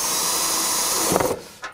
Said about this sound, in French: et il me suffit de la visser